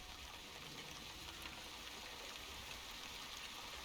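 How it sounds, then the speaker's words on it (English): Light rain falling in the video game The Wandering Village, a soft, steady hiss of drizzle without distinct drops, faint and continuous throughout. "I think we're getting some rain."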